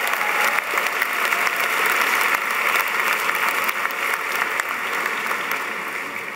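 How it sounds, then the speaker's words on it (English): Steady, loud applause from a large commencement crowd of graduates, friends and families, a continuous wash of clapping that holds for several seconds before easing slightly. "Give yourselves another round of applause."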